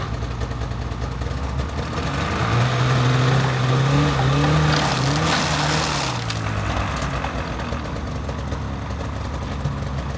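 A truck engine drives across a frozen lake in winter, a loud steady rumble that rises in pitch as it accelerates mid-way and then settles, with rough wind-like noise throughout.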